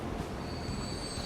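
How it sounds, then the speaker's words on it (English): Passenger train rolling past in the Transport Fever 2 game, a steady near rumble of wheels on rail with a faint high squeal running throughout, no voices. "as a passenger train goes by."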